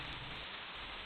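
Rain falling steadily, a dense, even hiss of drops with no pauses, filling the whole short moment without voices.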